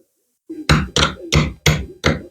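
Five sharp, evenly spaced knocks on a loose wooden joint as dowels are driven out, loud and close, with brief pauses between blows after a soft initial touch.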